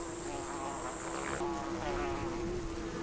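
Giant hornets drone steadily around the entrance hole of their underground nest, a close, continuous buzz with overlapping wingbeats and no voices.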